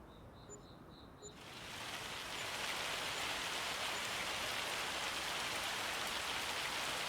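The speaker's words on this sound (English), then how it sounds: "looks like another hailstorm going. Got some hailstones coming down." Hailstones pelting down in a Farming Simulator 25 storm, starting as a steady hiss and building into a dense, continuous drumming downpour that holds for several seconds, with a few faint beeps at the very start.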